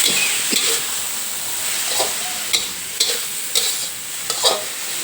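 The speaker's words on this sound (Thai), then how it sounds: "ผัดให้เข้ากันนะคะ" Oyster and fresh shiitake mushrooms stir-fried together in a pan for a Thai basil dish, a steady sizzle broken by several sharp scrapes and clinks of the spatula, close and alone with no talking.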